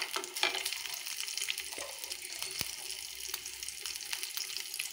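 Green chillies sauté in a pan for a potato fry, a soft steady sizzle with a few clinks and stirring scrapes, close and fairly quiet, with no talking.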